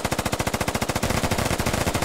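Rapid automatic gunfire in the video game Squad, shots fired through a wall in a fast even stream of sharp cracks, close and loud, alone without talk.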